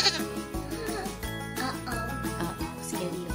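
Goat bleats in a toy adventure with Despicable Me 3 movie toys, a few wavering cries over a busy bed of music and jingling tones.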